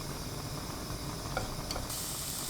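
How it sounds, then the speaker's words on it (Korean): Minced garlic stir-frying over high heat in cooking oil in a pan gives a soft, steady hiss and sizzle, faint and unbroken. "달궈지지 않은 팬에 식용유 2큰술, 다진 마늘 깎아서 반큰술 넣고 센 불로 30초 볶습니다."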